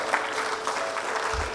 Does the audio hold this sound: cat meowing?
no